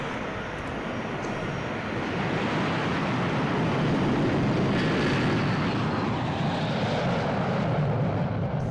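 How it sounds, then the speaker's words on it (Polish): A strange jet bomber roars overhead in the shooter Return to Castle Wolfenstein (RTCW), a loud, broad engine rush that swells steadily and stays close for the whole stretch, with no talk over it. "to jest jakiś bombowiec odrzutowy dziwny i hałasuje jak czort."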